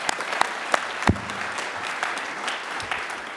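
Audience applause at a conference, a steady dense patter of many hands clapping with a few sharper individual claps standing out near the front.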